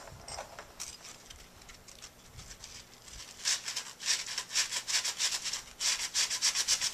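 An 80-grit sanding block scratches across the surface of a metal clacker glove in close, scraping strokes that start light and sparse, then turn louder, faster and steadily rhythmic in the second half.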